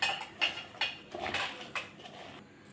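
Chopped onion and green chillies being mixed by hand in a bowl for veg Manchurian, giving a run of soft, evenly spaced clinks and scrapes against the dish, close and fairly quiet.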